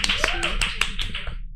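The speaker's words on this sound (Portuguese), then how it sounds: "Uma salva de palmas, minha gente." A small group claps at an autism podcast recording in a Brasília clinic, a short burst of sharp, distinct hand claps close by with a voice talking over them.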